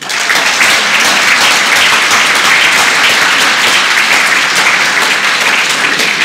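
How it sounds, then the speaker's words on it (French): Loud, dense applause from a crowd at a Rassemblement National political rally in Occitanie, sustained and even throughout with no break or speech. "On peut l'applaudir."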